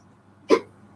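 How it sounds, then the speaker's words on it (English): A single sharp hiccup, close and loud, bursting out in the middle of an otherwise quiet moment. "I got the hiccups."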